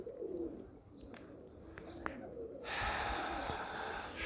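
Pigeons in a dovecote at dawn, low soft cooing with scattered flutters and faint clicks, followed by a louder rush of wings or wind near the end.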